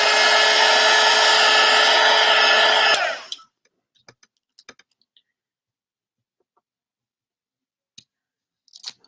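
A hair dryer blows loud and steady on charcoal chalk paste for a chalk couture snowman craft, then shuts off abruptly, leaving near silence broken by a few faint clicks and taps.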